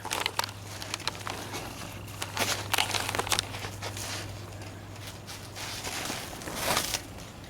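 A piece of tape being handled near a freshly painted Jeep Wrangler hood in an inflatable paint booth, irregular close crinkling and sticky peeling crackles in short bursts over a steady low hum.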